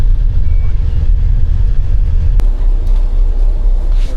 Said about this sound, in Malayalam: നമ്മുടെ ബസ് അങ്ങനെ യാത്ര ആരംഭിച്ചു